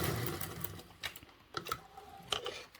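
A sewing machine bastes fabric for a convertible duffle bag in short, quiet bursts of stitching separated by brief pauses, close and faint.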